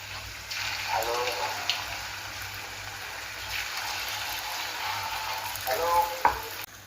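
Bhagar (barnyard millet) bhaji fry in hot oil with a soft continuous sizzle and bubbling, with occasional stirring scrapes and faint clinks, close but fairly quiet.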